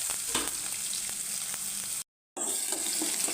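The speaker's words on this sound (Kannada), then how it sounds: "ಈರುಳ್ಳಿ ಕಲರ್ ಸ್ವಲ್ಪ ಚೇಂಜ್ ಆಗೋ ತನಕ ಫ್ರೈ ಮಾಡ್ಕೊಳ್ಳಿ" Onions frying in oil in a pan, a close steady sizzle with light crackles, briefly cut to silence partway through before the sizzling resumes.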